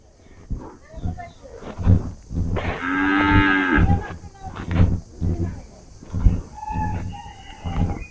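Cattle in a village moo repeatedly, one long loud low call standing out in the middle, with fowl clucking faintly and a person talking in the background.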